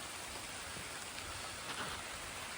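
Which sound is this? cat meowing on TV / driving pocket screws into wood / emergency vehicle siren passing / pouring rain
pouring rain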